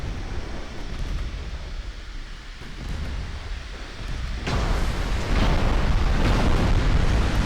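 A turret on a warship is knocked out during a naval battle game: a deep, sustained roar of blast and rumble that swells louder partway through, with no talking.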